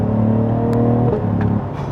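A Cadillac CT5-V engine in track mode accelerates on a wet track, a loud steady drone that drops briefly in pitch, as if at a gear change, before a sharp burst at the end.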